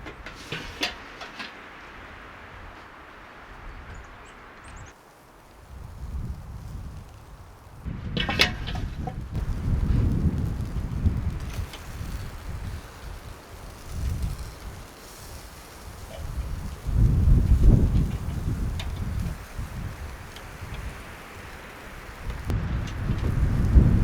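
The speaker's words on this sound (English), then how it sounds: "Wind has really picked up." Strong gusts of wind buffet the outside of an off-grid cabin in the Canadian wilderness, surging and easing in a loud, rumbling roar with rain-like hiss, with no voices.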